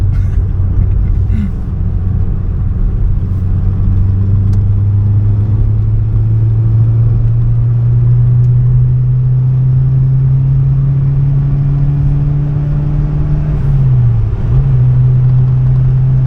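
Fiat Uno Turbo ie engine droning steadily and loudly from inside the car while overtaking on the road, a sustained rising tone with a brief dip near the end as the gear changes.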